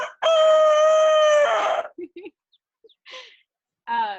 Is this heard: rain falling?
no